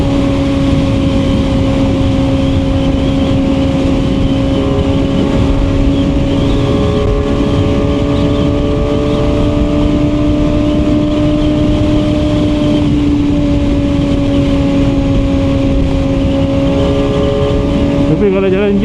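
A QJMotor SRK450RR motorcycle cruising on a highway, its exhaust giving a steady loud engine drone at constant revs, mixed with heavy wind rush, continuous from start to finish.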